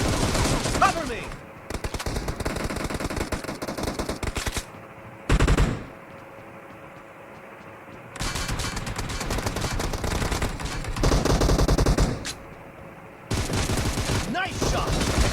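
PUBG Mobile gunfire comes in several long automatic bursts of rapid shots, loud and close, split by short quiet gaps, with a brief stretch of voice between the volleys.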